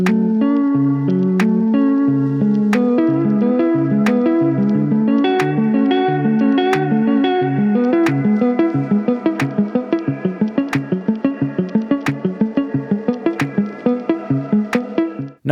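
Synth arpeggio in electronic music, a fast repeating pattern of stepped notes with steady percussive ticks, its tone and effects shifting partway through into a choppier, pulsing texture.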